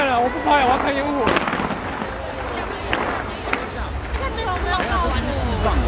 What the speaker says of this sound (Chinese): 我要看烟火